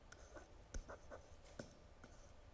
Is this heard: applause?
no